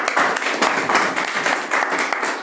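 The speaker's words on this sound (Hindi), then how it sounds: "तो ताली बजाइए सर के बात पर एक बार।" Audience applause in a coaching classroom, a steady dense wash of many hands clapping throughout, fairly loud and close with no talk over it.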